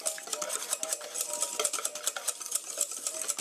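A utensil stirring egg and flour batter for zucchini pancakes, quick rhythmic clinks and scrapes against a bowl, close and steady throughout.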